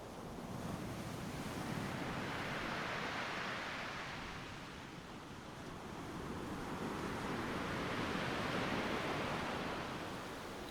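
Ocean waves wash onto a sandy beach in a steady roar, swelling and easing slowly as each surge breaks and recedes, with no voices over it.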